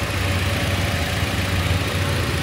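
A Wuling Confero car idles with a steady, smooth engine hum and a low, even drone, loud and close throughout, with no voices.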